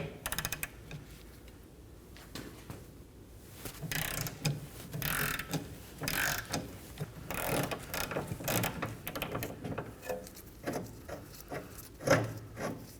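Fast ratcheting from a 15mm ratchet breaking loose and backing out the bottom shock absorber bolt on a Ford Transit Connect: quiet, close bursts of clicking with brief pauses and some metallic knocks.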